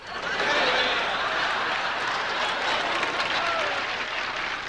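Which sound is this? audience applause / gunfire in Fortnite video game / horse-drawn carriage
audience applause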